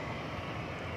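A UPS cargo airplane at DFW Airport at night gives off a steady, unbroken jet engine roar across a brief moment.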